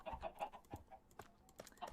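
Chickens clucking in a small automatic chicken farm in Minecraft, a series of short, quiet, irregular clucks and pecking sounds in quick succession.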